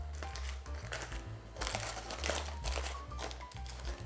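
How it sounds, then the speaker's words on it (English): Baking paper being peeled off a freshly baked lemon Madeira loaf cake makes steady crinkling and crackling up close, continuous for several seconds with no talking. "And let's remove the paper off it."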